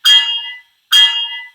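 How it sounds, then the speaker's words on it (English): Two separate rings of the small bell on a Rapido fireless model locomotive, each a bright metallic strike that decays over about half a second, close and loud with a short gap between them. "I think we've heard that bell now."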